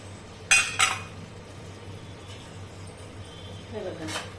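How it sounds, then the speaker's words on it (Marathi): Potatoes and peas tipped into a pan of fried spices for tomato rice, two sharp clattering metallic clinks early on, then quiet, then a soft scraping stir near the end, with a voice speaking throughout. "आता आपण यामध्ये भाज्या घालतोय बटाटे वटाणे"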